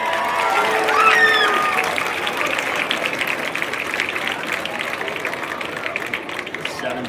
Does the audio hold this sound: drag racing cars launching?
no